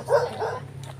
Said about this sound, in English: Might there some dogs in there?